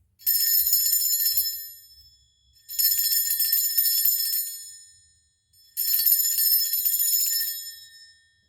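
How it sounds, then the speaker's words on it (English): A bright metallic bell rings three times, each ring shimmering and slowly fading, with pauses of silence in between. "Let me ring this bell."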